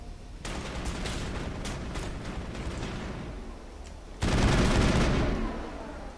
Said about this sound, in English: Garrus over here shooting the wall like a dum-dum.